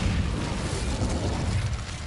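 Incendio fire spell cast in Hogwarts Legacy, a dense roaring burst of flame with a rumbling low whoosh that holds steady for a couple of seconds.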